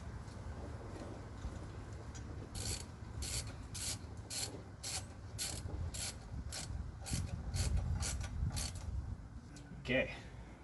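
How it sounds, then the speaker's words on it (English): Ratchet wrench tightening three outer bolts on a serpentine pulley of a 406 small-block Chevy in a 1979 Cutlass, a series of quick rhythmic clicking strokes close by with faint background noise. "Now we'll tighten up the 3 outer bolts."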